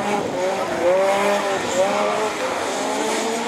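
A Division 4 rallycross race car at Lessay restarting after breaking down, its engine revving up and down in rising, wavering pitches, fairly close and loud against crowd ambience.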